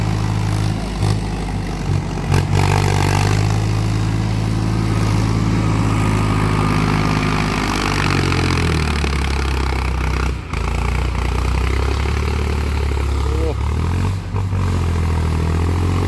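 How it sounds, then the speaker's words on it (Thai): A large farm tractor engine runs loud and close beside a pond in rainy weather, with a steady low drone and a shift in engine pitch partway through. No one speaks. "ดีนะมีรถไถคันใหญ่ครับ"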